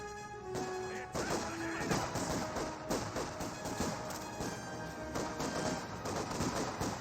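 Dense battle din in Company of Heroes 2 with a German MG42 machine gun firing among crashing impacts and explosions, loud, near and continuous, with no voices.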